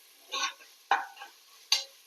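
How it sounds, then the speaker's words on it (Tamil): Mushroom masala for a Chettinad mushroom biryani is stirred and sautéed in a pan, with three separate bursts of scraping and light sizzling spaced about a second apart, close and moderately quiet. "இந்த மாதிரி வதக்கி விட்டுடலாம்."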